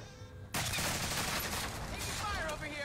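Submachine gun fire in a shooter video game, a dense burst starting abruptly after a quiet moment and rattling loudly and continuously to the end, close and dominant.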